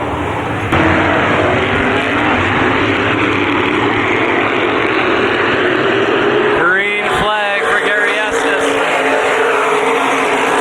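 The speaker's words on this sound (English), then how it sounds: "Car with a good run to the outside of Mike Carroll for third." Race cars at Columbus Motor Speedway during a 2007 main event, a loud steady roar of engines circling the track, with a car passing close by around the seventh second amid crowd and commentary speech.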